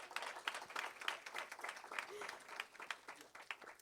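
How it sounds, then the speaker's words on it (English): Applause from a symposium audience for an honored doctor, a brief, fairly faint patter of clapping hands with no clear voices. "Can we get a round of applause for Dr."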